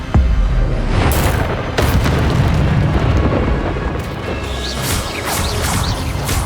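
Expelliarmus spells cast in Hogwarts Legacy, heard as loud booming blasts and crashing impacts with whooshing bursts, several sharp hits spread across a dense, continuous combat soundscape.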